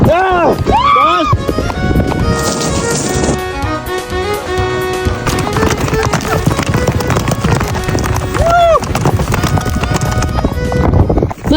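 Horses trotting at a palomino ranch, steady hoof clip-clops at close range with a neigh early on, while people talk over the hoofbeats.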